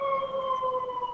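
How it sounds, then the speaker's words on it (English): An emergency vehicle siren wails, a steady tonal blare held at a constant pitch and loud throughout, with no other sounds over it. "Sorry for the sirens."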